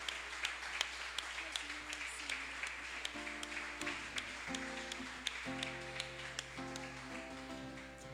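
Congregation applauding together during a worship song in a church service, steady clapping running throughout beneath sustained music and organ-like tones.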